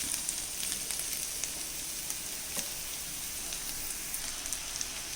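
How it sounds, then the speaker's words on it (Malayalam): Chinese potato (koorka) stir-fries in an open pan for mezhukkupuratti, giving a steady, dense sizzle with faint crackles and pops throughout and no voices. "ഇനി ഇങ്ങനെ തുറന്ന് വെച്ച് തന്നെ നമുക്ക് കുറച്ച് നേരം ഇളക്കി കൊടുത്തിട്ട് ഒന്ന് എല്ലാം കൂടെ മിക്സ് ചെയ്തൊന്ന് മൂപ്പിച്ചെടുക്കാം"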